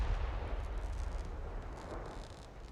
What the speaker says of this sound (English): He's been getting some pretty solid hits with the howitzer as well, forcing back the machine guns.